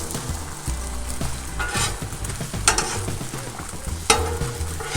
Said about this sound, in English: Then we're ready to put this egg in here.